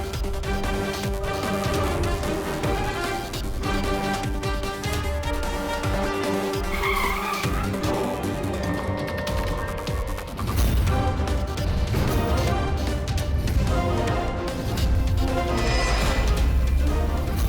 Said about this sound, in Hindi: जैसे ही गाड़ी एक्सीडेंट हुई, पीछे वाली गाड़ी आके वहीं रुक गई।